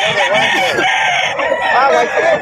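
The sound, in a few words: Kelso stag gamefowl rooster crowing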